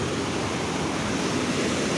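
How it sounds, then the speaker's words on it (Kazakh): River water flows continuously in a broad, steady rush of noise that holds even and fairly loud throughout, with no voices over it. "Бұл дария, су."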